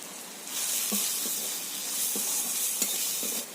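Onion, ginger and garlic paste with cumin, coriander, Kashmiri chilli and turmeric powders fries steadily in oil, a continuous close sizzle and hiss with a few soft stirring scrapes.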